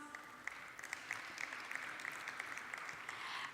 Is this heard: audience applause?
yes